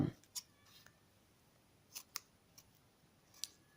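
Scissors snip paper for a beginner paper-flower craft, several short crisp cuts spaced apart over a quiet room.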